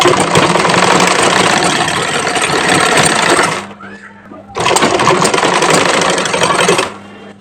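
An electric sewing machine stitches the sleeve of a kameez at an 8.5-inch cuff in two long continuous runs of fast rattling needle clatter, separated by a short pause.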